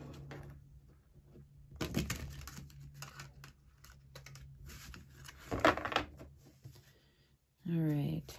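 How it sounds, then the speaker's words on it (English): Tarot cards shuffled by hand, giving soft papery riffles and crinkles in brief bursts over a low steady hum, with a short voiced sound at the end. "One more shuffle."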